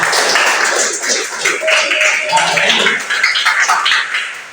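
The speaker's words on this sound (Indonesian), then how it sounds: "Beri tepuk tangan dulu untuk Siti Nurjana." Students clapping in a classroom during a lesson, uneven bursts of hand claps with irregular rhythm that rise and dip over several seconds, fairly close and moderately loud, with a few voices mixed in.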